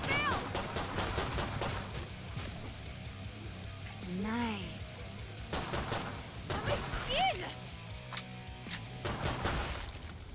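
Rapid gunfire in the zombie shooter Killing Floor 2, dense repeated shots throughout, mixed with game creature shrieks, effects and someone talking over the action.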